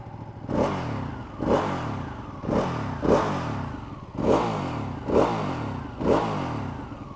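A 2016 Ducati 959 Panigale sport motorcycle engine with standard exhaust cans idles and is blipped repeatedly, seven sharp revs in a steady rhythm, close and fairly loud.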